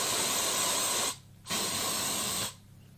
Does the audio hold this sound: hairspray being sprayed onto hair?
yes